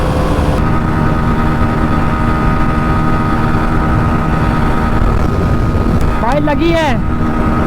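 A Hero Xtreme 125R and a Pulsar NS125 race side by side with an engine held on the rev limiter, a loud constant droning buzz with heavy wind rush and a brief shout near the end.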